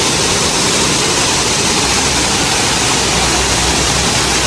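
A 30-foot waterfall among mock Rocky Mountain scenery at Epcot's Canada pavilion in Walt Disney World, giving a loud, steady, unbroken rushing roar heard close up.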